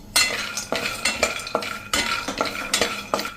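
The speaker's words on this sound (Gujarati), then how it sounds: "તો જો બદામ આપણે આમથી લાઇટ એવી રોસ્ટ કરવાની છે, ક્રન્ચી થાય ને ત્યાં સુધી." Almonds being dry-roasted in a pan, stirred with a utensil in a steady rhythm of scraping, rattling strokes, about two per second, close and clear with no talk.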